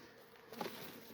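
A faint, steady buzz of bees at a hive hums close by with a soft swell midway; no voices.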